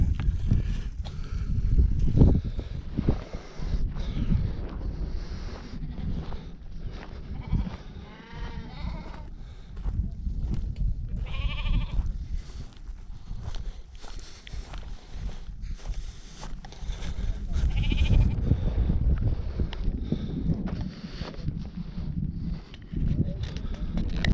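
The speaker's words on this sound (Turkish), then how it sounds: "Burada da yine şöyle kuzular var." Lambs and sheep in a nomadic flock with Kangal guard dogs bleat repeatedly at varying distances over a constant outdoor background of shuffling and movement, with no clear talk.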